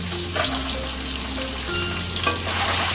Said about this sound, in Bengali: ডিমগুলোকে না আমি বেশি ভাজবো না একটু হালকা করে ভাজবো